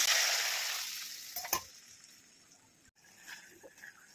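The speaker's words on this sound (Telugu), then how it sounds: "చిలకడ బాగా వేగిపోయింది." Sweet potato frying in a pan, an initially loud sizzle that fades gradually, broken by a couple of sharp scraping stirs and light clinks.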